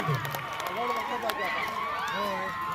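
Kabaddi supporters cheer loudly at a district-level men's match, a dense crowd roar with whistles and shouts sustained throughout.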